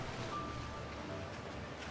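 Water while swimming in the video game Genshin Impact, a soft, steady wash of lapping, surf-like sound at low volume, with a faint brief tone partway through and no voices.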